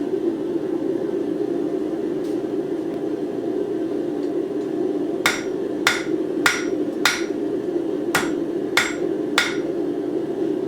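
A hammer strikes hot steel while forging a taper on a paperclip, with seven sharp ringing blows in two quick groups over a constant loud hum of background noise.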